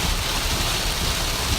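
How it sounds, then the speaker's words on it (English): Steady heavy rain pours onto a car in Louisiana, heard from inside as a dense, continuous wash of hiss and patter with no talk over it. "this is the rain that we're getting today"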